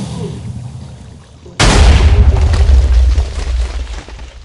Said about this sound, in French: on met les TNT comme ça, et ensuite on a juste appuyé sur le bouton.